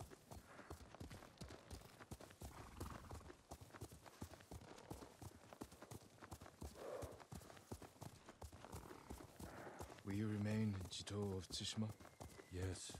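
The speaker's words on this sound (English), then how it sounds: "You have a white horse like my Sora." Horse hooves clip-clop steadily at a walking pace in the samurai adventure game Ghost of Tsushima, a white horse moving under ongoing game dialogue and music, with a louder musical swell near the end.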